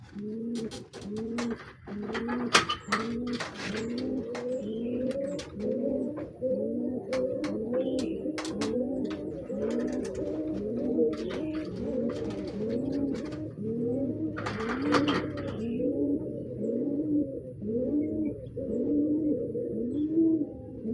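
Pigeons coo continuously in a close, rhythmic chorus of low repeated calls, including a grey female, with occasional wing flutters and clicks.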